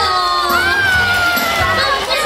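A crowd of audience members cheering and shouting for children coming onstage at a photo studio costume show, loud and lively throughout with a bright presenter-like voice rising over the noise.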